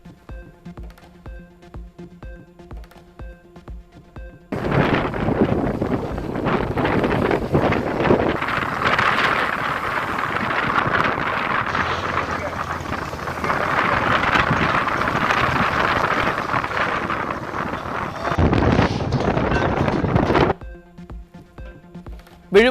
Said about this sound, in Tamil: வங்கக்கடலில் நிலவும் குறைந்த காற்றழுத்த தாழ்வு நிலையால் சூறைக்காற்று வீசி வருவதால் சீற்றத்துடன்